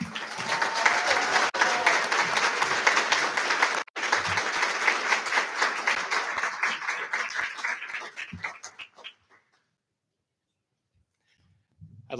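Dense crowd applause fills a graduation commencement hall, loud and sustained for about eight seconds before tapering off into silence, with a few faint sounds near the end.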